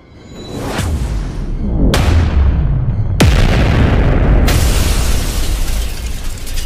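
Repeated booming explosions crash loudly through a fantasy battle sound effect as two giant spears collide, with sharp blasts at intervals over a dense rumbling roar and whooshing bursts.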